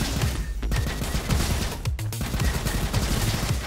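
Rapid continuous gunfire from a windmill rifle in the video game Robo Quest, dense fast shots blending into a loud unbroken fusillade with a brief dip near the middle.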